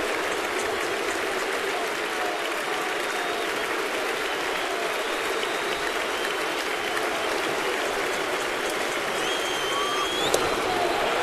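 Yankee Stadium crowd at a 2009 playoff game between the Twins and Yankees roars and applauds in a steady, dense wash of cheering that holds throughout, with a brief whistle near the end.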